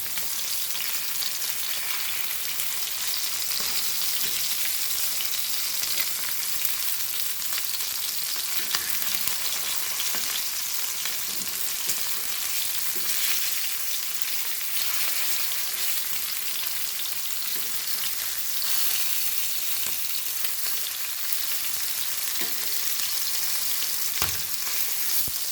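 Kokar fish coated in rava fries in a pan Goan style, a dense, steady sizzle that crackles on without pause throughout, with no voices.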